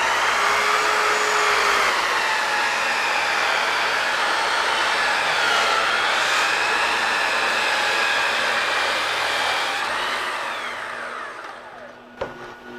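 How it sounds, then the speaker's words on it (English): A power saw cutting a clamped piece of wood for Craftsman-style mantelpiece corbels, a loud continuous whine held for about ten seconds before winding down, followed by a short knock at the end. "Now I can take the saw."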